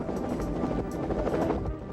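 A rescue helicopter lifts off from the water, its rotor and engine producing a loud, steady throbbing roar that fills the whole moment without a break.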